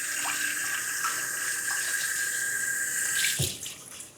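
A bowl rinsed under a running kitchen tap, a steady close hiss of flowing water with light splashes, ending in a brief clunk as the stream stops, no talking.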